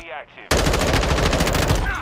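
A gun in Call of Duty Modern Warfare II (2022) fires a fast, loud, sustained automatic burst right up close after a brief quieter moment.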